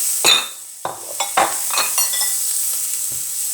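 Shrimp frying in hot oil in a pan, with a soft steady sizzle under several quick scraping stirs and light clinks of a utensil against the pan, close and moderately quiet.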